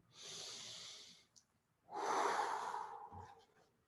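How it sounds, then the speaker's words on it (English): A group of people take a deep breath together during a meditation session: a soft inhale, a brief pause, then a longer, louder exhale, close and clear with no talk. "Everybody take a deep breath with me."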